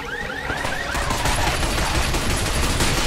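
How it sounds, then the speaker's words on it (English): Rapid automatic gunfire from a video game, fired at the legs of attacking robots, crackles in dense sustained bursts through the full three seconds at close range, with sharp ricochet-like whines scattered over the din. "Stop them by shooting their legs."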